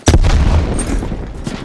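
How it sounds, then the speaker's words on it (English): A frag grenade blast in Call of Duty Black Ops Cold War, a single loud, close, deep boom that starts abruptly and rumbles on for over a second before fading slightly. "Sending frag grenade."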